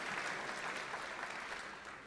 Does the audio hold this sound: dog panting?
no